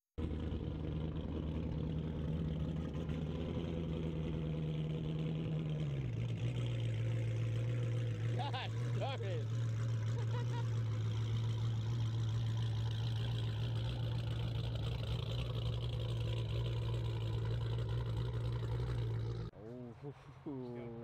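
A 6.4 Hemi V8 with an aggressive cam idles steadily with a deep, loping rumble that drops in pitch partway through, while people talk over it.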